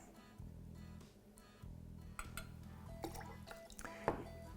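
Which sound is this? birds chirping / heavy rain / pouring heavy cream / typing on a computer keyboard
pouring heavy cream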